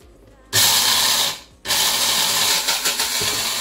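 Electric grinder whirring as it grinds crayfish and egusi seeds, a loud steady motor roar that starts abruptly, fades, cuts out briefly, then restarts and runs on with slight bumps and rattles.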